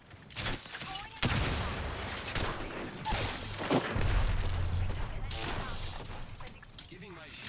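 Gunfire bursts and booms in a sci-fi shooter video game, with rapid volleys and heavier impacts recurring through the stretch, fairly loud and close, mixed with game effects.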